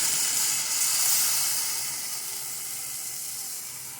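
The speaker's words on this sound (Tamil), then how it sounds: "இப்போ அரைச்சி வச்ச கேரட் ஆனியன் தக்காளி இந்த பேஸ்ட்டை ஆட் பண்ணிக்கிறேன்" Ground carrot, onion and tomato paste sizzles in a pan for carrot chicken gravy, a steady, fairly loud hiss that fades slightly toward the end, with no talking.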